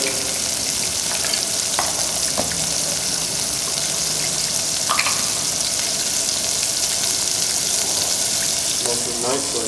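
Mushrooms fry in butter with a continuous close sizzle and crackle, broken by a few spoon clicks and pan knocks, while a person speaks briefly.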